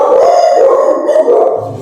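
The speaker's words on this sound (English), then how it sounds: "The dogs, the dogs get rowdy." Several dogs bark and howl together in a rowdy, continuous chorus, fairly loud and close, with a low rumble creeping in near the end.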